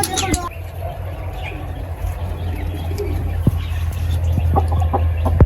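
Shut-in chickens cluck and coo nearby in short scattered bursts, with a low steady hum in the background.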